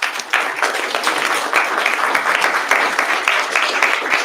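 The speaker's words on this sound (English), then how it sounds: "let's go ahead and give each of these people a round of applause" An audience claps and applauds steadily throughout, a dense crowd-sized patter from start to finish.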